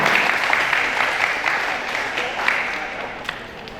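An audience at a donation handover event gives a round of applause, dense continuous clapping that fades slightly toward the end, heard at moderate distance.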